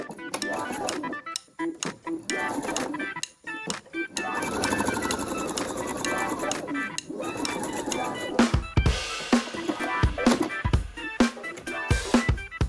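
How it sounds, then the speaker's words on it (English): A sewing machine stitches along the folded edge of a fabric mask pocket, fast bursts of mechanical whirring broken by short pauses, close and clear with no talk. "now I'm just going to stitch right along that edge, about 1/4 inch in"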